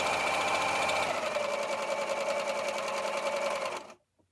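A sewing machine stitching fabric for an apron runs in one steady, fast whirring burst of close mechanical chatter that holds for nearly four seconds, then stops abruptly.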